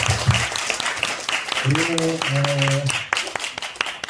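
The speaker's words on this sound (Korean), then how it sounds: "다시 한번 하나님께 영광의 박수 올릴까요?" A church congregation claps together at an Easter Sunday worship service: steady, close applause runs through the clip while a voice speaks and briefly sings or holds tones over it.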